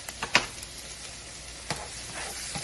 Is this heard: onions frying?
yes